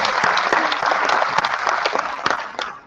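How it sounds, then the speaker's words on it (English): An audience at the opening day of an international conference, ICSETI-2016, gives Dr. Manoj Kumar a big round of applause, with dense, close clapping that fades out at the end. "Let's give him a big round of applause."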